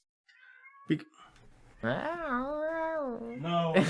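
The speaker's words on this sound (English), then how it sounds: "That's my cat" A cat gives a long, drawn-out meow after a few brief spoken words, ending with a rising second meow.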